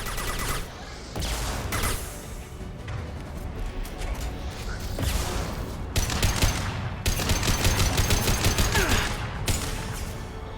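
Steady, dense gunfire rattles through Mass Effect 2's Lair of the Shadow Broker, with rapid repeated shots and loud bursts stacking over one another almost continuously, close and forceful throughout.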